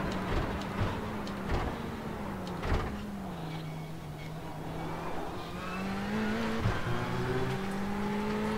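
A Ferrari race car in iRacing testing at Le Mans: a steady, droning engine note sweeps up and down in pitch as it accelerates and shifts, with faint mechanical clicks and no talking.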